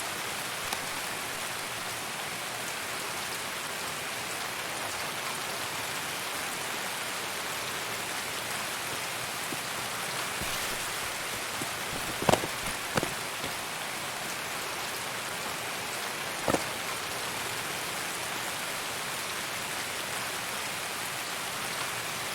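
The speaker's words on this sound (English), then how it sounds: "Oh my god, it's raining." Steady rain falls in the Escape From Tarkov game world, a continuous even hiss of drops on surfaces with a few brief sharper taps near the end.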